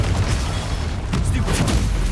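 The Confringo fire spell in Hogwarts Legacy: loud, dense booming blasts with crackling bursts in quick succession, a sharp crack around the middle and more pops after, over a continuous rumbling battle din.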